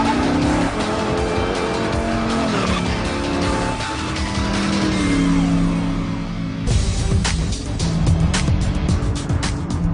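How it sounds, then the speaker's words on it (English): A Factory Five high-performance kit car races at high speed, its engine roaring and shifting pitch loudly nearby, with tires squealing through corners. "Smooth, high-speed rides like this one are a testament to the amazing design of a high-performance kit car and the driver's flawless build"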